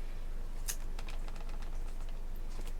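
Numbers keyed in on a computer keyboard while working through a budget, a quick irregular run of close, crisp keystroke clicks with no speech.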